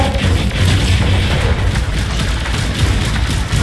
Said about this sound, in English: Your blaster, just fire that thing like a scatter shot, but you can also hold the trigger and you get a big bomb guy.